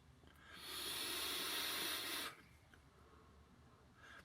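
A vaper takes an inhale on a Geekvape Griffin 25 atomizer, giving a steady airy hiss close by that lasts about two seconds and then cuts off into quiet room noise.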